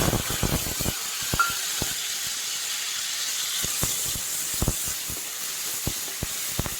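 Tomatoes go into hot oil in a pan where mustard and cumin seeds are already crackling, giving a steady close sizzle and hiss with scattered sharp pops throughout.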